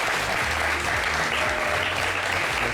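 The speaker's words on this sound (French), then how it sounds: "applaudissez Monsieur Oscar quand même" Studio audience applause on a talk show, a thick, continuous wash of clapping that stays loud and even throughout, with low music or rumble underneath.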